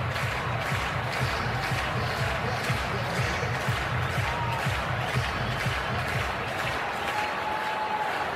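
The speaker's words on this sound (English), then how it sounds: "Some life back in the crowd." A baseball stadium crowd at the 2022 NL Wild Card Game 1, Phillies versus Cardinals, roars and applauds in a steady, unbroken wash of noise that holds at an even level throughout.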